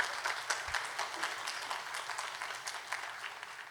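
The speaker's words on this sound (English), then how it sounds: "Give our lovely two speakers a round of applause." Sustained applause from a conference audience for two panel speakers at the close of a session on gifted education, a dense steady patter of many hands clapping at moderate distance without talk.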